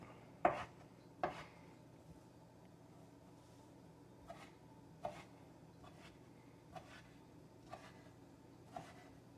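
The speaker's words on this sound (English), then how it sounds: "So now we're just going to chop it up a little bit." A knife chops ingredients for vegan miso soup on a board. Several crisp, separate taps come at an uneven pace, close and clear against a quiet background.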